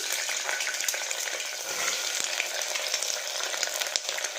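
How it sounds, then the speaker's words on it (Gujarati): Soya chunks (vadi) fry in hot oil inside a pressure cooker, giving a dense, continuous close-up sizzle with faint crackles and occasional light stirring, no voices. "તો આપણે તેલમાં વડીને એકદમ સરસ ફ્રાય કરી લેવાની છે"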